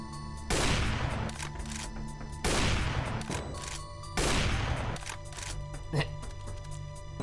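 Secondary fire from a weapon in the Goldeneye Doom 2 mod sounds in three loud, evenly spaced blasts roughly every two seconds, each with a noisy tail, amid game ambience and someone talking.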